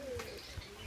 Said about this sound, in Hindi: तो आम बड़ा कबूतर बैठा है